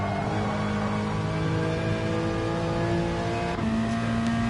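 A Peugeot touring car engine in a racing video game drones steadily at high revs throughout, with a brief gear change near the end, loud and close with no talk.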